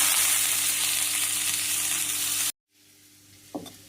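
Beans, carrots and potatoes frying for millet pulao give off a loud, steady sizzle for about two and a half seconds. The sizzle cuts off abruptly, then a quiet pause ends in a brief stir or clatter.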